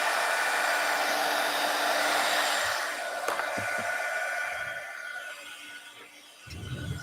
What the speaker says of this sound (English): I'm going to go silent for a minute while I heat emboss.